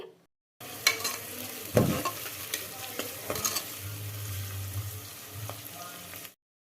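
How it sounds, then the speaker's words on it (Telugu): Two chopped onions and curry leaves frying in oil in a pressure cooker over medium flame, a continuous close sizzle broken by scraping stirs and a few utensil knocks, with no one talking. "ఉల్లిపాయ ముక్కలు మీడియం ఫ్లేమ్లోనే మంచి రంగు వచ్చే వరకు వేయించుకున్నాక"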